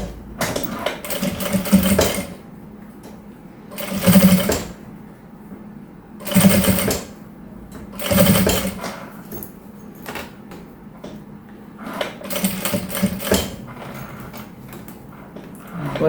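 Domestic sewing machine stitching colourful fabric pieces and bias binding for a small suitcase-style toiletry bag, running in several loud bursts of rapid mechanical whirring separated by short pauses.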